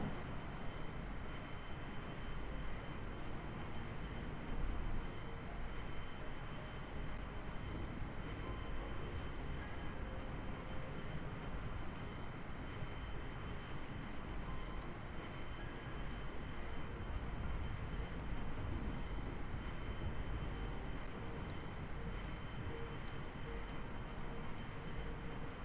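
Aircraft engine in Kerbal Space Program, a continuous droning roar with steady broadband hum held for the whole stretch, constant and moderately loud with no talk over it.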